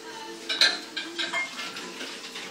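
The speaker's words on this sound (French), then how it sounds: "Là, la soude, tu vas la mélanger dans ton eau." Lye being stirred into water for homemade soap produces light clinking and scraping against the container, a few sharper taps among soft swishing, close and fairly quiet.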